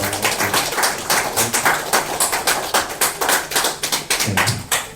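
A church congregation at a Sunday worship service claps in welcome for first-time visitors, a brisk rhythmic burst of many hands close by, steady and loud for several seconds before tapering off.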